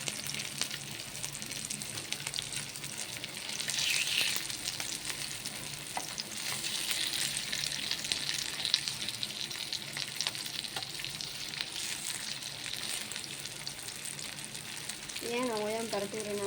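Kumula and vela fish fry in a nonstick pan with a constant sizzle, while a utensil stirs and scrapes around the pan. A voice speaks briefly in the background.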